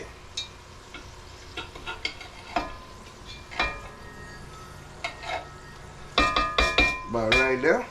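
Chunks of deer sausage fry in a pan in a Cajun home kitchen and get stirred, with soft sizzling broken by scraping utensil clacks that become louder and quicker near the end. Someone speaks at times.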